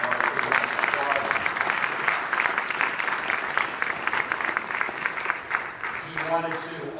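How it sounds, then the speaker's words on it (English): An audience at the Montgomery County Democratic Party awards celebration applauds with steady, dense clapping, fairly close, and a voice speaks briefly near the end. "Let's give the Montgomery County Democratic Party a round of applause"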